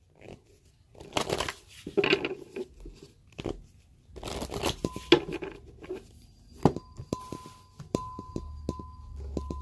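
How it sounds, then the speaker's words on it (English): Tarot cards are shuffled by hand in close, crisp bursts of riffling and slapping, separated by short pauses and ending with a few taps. "go ahead and ask your questions, Aries, right now while I'm shuffling."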